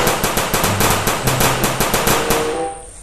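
Toy gun firing a rapid burst of about fifteen sharp, evenly spaced shots, loud and close, stopping abruptly near the end.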